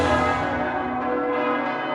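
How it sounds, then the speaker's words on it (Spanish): Church bells ring out at the Vatican to announce the election of a new pope, a loud, sustained metallic peal with long ringing overtones decaying across the whole moment, no voices over it. "Y las campanadas anuncian que la Iglesia tiene un nuevo líder."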